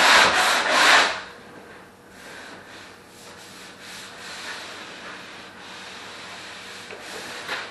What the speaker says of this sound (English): We'll add a little bit more and then sand those down and get everything nice and flat.